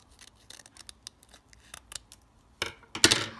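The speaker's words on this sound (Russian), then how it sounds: "Открываем второй пакетик" Crinkly plastic rustles and crackles in short bursts, growing louder toward the end as a packet is torn open close by.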